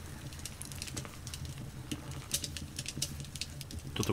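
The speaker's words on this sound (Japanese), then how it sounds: "パチパチと音がしてるんですけどね。" Firewood crackling in a fireplace within a relaxing fireplace video game, a dense steady stream of small snaps and pops over a soft low rumble, with no voices.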